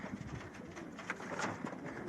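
Racing pigeons in a breeding loft; soft, low cooing sounds near at hand over a quiet room background, brief and faint.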